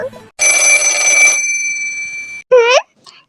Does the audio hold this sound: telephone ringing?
yes